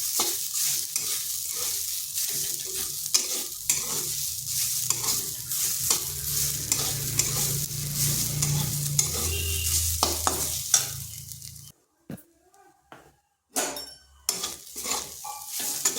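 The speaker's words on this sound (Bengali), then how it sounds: "হালকা একটু ভেজে নিচ্ছি যাতে কাঁচা গন্ধটা চলে যায়" Grated coconut lightly fried and stirred in a pan, with a steady soft sizzle and repeated scraping and clinking of a utensil against the pan, which drops away toward the end to near silence with a few sharp knocks.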